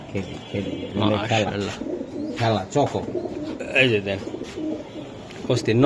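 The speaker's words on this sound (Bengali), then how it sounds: "এটা নর কবুতর ভাই" A male racing pigeon coos in soft, repeated throaty phrases close by, while people talk over and between the calls.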